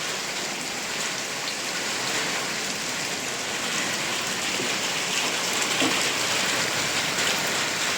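Heavy rain pours steadily over a residential area, a dense, even hiss of drops hitting surfaces throughout, loud and unbroken, with no voices.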